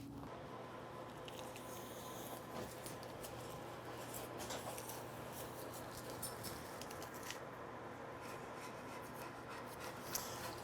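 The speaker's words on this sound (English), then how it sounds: "So let's take the tape off and see what we got." Masking tape is peeled off a polished rifle stock, a quiet, drawn-out rasping and rubbing with a few small ticks near the end.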